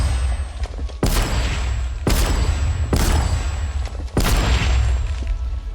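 Gunfire and explosions in a medieval RPG played as a gunslinger; four loud, heavy booming blasts about a second apart, each with a sharp onset, set over constant game background noise.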